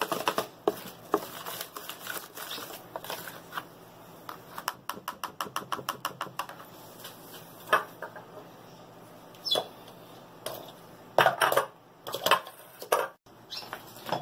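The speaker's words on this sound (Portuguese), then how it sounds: "Quando colocar o fermento, só bate até misturar, tá, gente?" Cake batter for a chocolate-topped bolo bem casado is beaten after baking powder goes in, producing quiet, uneven clicks and scrapes against the bowl, with a brief burst of rapid tapping midway.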